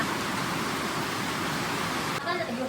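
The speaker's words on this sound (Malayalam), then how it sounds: "ഭയങ്കര മഴയാട്ടോ ഭയങ്കര മഴ" Steady, dense rush of heavy rain fills the whole stretch, loud and continuous, with a faint voice or tone appearing near the end.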